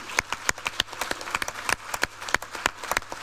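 Audience applause at a launch event: scattered, fairly sparse hand claps from a modest crowd, individual sharp claps spread irregularly through a few seconds rather than a dense roar.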